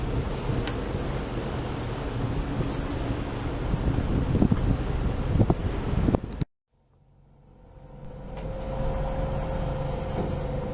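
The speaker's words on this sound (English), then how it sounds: "Sailing in the Galapagos Islands towards San Cristobal." Sailing boat at sea near the Galapagos Islands, heading toward San Cristobal: steady broadband rush of wind and water, loud and continuous, briefly cutting out then returning.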